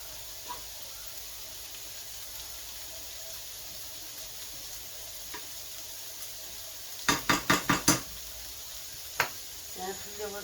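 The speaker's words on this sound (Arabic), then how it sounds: "هذا الرز هذا اللي كيتشحر هنايا." Rice fries in butter and oil in a pan as a quiet, even sizzle, broken by a quick burst of scraping clinks partway through and a few later taps.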